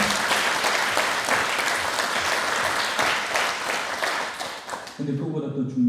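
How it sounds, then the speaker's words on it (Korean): Church congregation applauding during a Thanksgiving Sunday worship service, dense sustained clapping from many people that fills the room, then fades at the end as music begins. "우리 이 사람들 위해서도 박수 한번 합시다."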